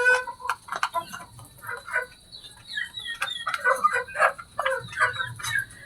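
Backyard flock of four hens and a rooster clucking and calling in a steady, busy chatter, close by with overlapping short cackles and no talking.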